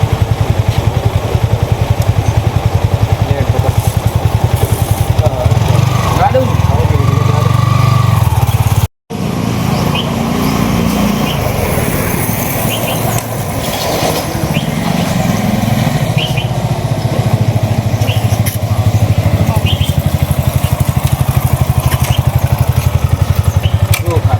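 A motorcycle engine runs close by with a continuous loud, low throb for over twenty seconds, broken by one sudden brief cutout partway through, and voices occasionally mixed in.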